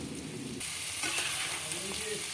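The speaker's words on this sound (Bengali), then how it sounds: "সেদ্ধ আলুগুলো দিয়ে একসঙ্গে আমি ভেজে নিচ্ছি" Boiled potatoes frying with spices in a pan, a dense steady sizzle that grows louder partway through, with faint scraping of a spatula, close up and without speech.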